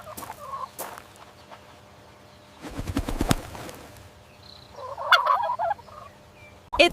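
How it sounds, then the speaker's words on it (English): A turkey gobbles in a loud, rapid, rattling burst close by, with scattered softer calls and clucks before and after. "It's a turkey."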